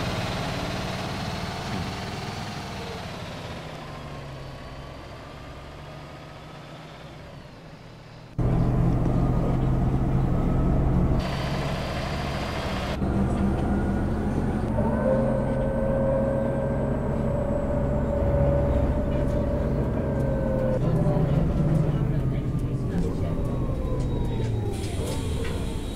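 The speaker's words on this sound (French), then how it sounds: "ce son de moteur pile poil bien trouvé" A Van Hool AG300 articulated bus engine in the OMSI bus simulator, a steady low diesel drone that shifts in load and pitch as the bus pulls away, with a sudden louder surge partway through.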